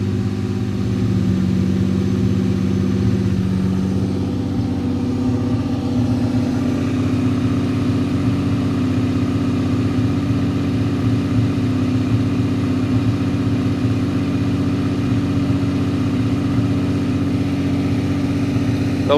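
A car named Annabelle with an idle fault sits warming up, its engine droning in a steady low, even hum throughout, close and continuous with no talk.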